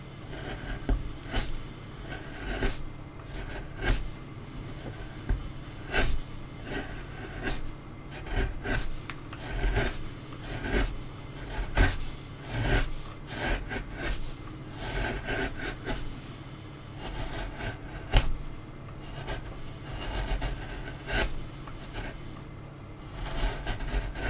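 A deep gouge carves wood for a dragon sculpture in repeated rasping, scraping strokes at an uneven rhythm, close and fairly quiet, with no talk.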